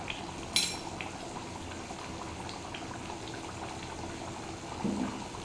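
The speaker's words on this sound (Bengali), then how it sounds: "চানা তো সেদ্ধ করাই ছিল, খানিকক্ষণ ফুটিয়ে নেব।" Boiled chickpeas simmering in chana masala, a soft steady bubbling in the pot with a clink of a spoon early on, quiet and without talk.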